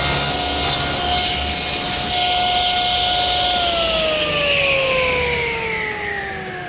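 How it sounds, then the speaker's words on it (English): A table saw with its blade tipped to 10 degrees cuts a raised panel from 5/8 inch strawboard, a loud sustained whine and hiss of the cut that shifts in pitch partway through as the blade works the material. "I've tipped my saw blade to 10 degrees, and I do the narrow ends of the panel first."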